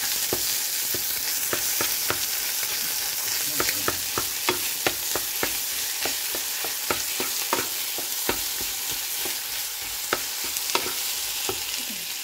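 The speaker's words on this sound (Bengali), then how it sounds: "আর দেবো এই বাটা মশলাটা। এবার এটাকে ভালো করে মেশাতে হবে।" Shrimp being mixed with ground spice paste in a hot pan, with a constant sizzle and a quick, regular series of sharp spoon scrapes and taps against the pan, close and without any talk.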